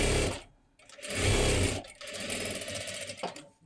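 A sewing machine runs in quick mechanical bursts while double-stitching a lining onto kathpadar saree fabric for a girl's one-piece dress, its rapid needle clatter starting and stopping close by.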